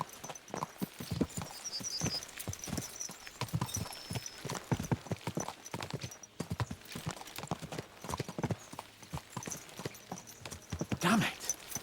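Horses gallop in the medieval video game Kingdom Come: Deliverance II, with quiet, rapid, steady hoofbeats drumming throughout and a brief whinny near the end.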